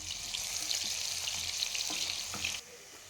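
Onions fry in hot oil, sizzling loudly and steadily up close with a few scraping stirs, then the sizzle drops sharply near the end.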